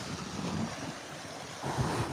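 Ocean waves wash onto a beach, a steady, moderate surf rumble swelling toward the end, with some wind noise and no voices.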